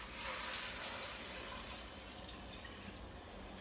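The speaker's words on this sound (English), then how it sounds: "Then we pour my water in. 4 cups." Water, four cups in all, pours steadily into a pot for one-pot pasta, giving a continuous soft splashing rush that stays fairly quiet and close, with no talking.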